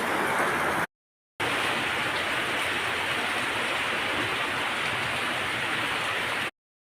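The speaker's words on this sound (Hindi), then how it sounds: "इधर चूल्हा है देखिए और इधर पानी गिर रहा है" Rainwater pours and drips inside a leaking house during heavy rain, falling near a cooking stove and running down the walls, a dense, steady rushing splash, close and loud, briefly cut out.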